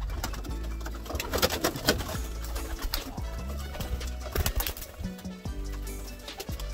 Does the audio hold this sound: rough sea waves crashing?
no